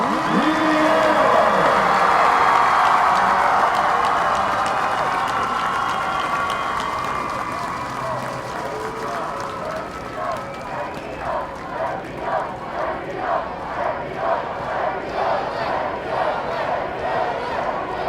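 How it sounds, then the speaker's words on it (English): High school football fans at a state championship game applaud and cheer loudly in a stadium, a dense roar that gradually thins into rhythmic clapping and chanting. "TSSAA football fans, please join us in applause"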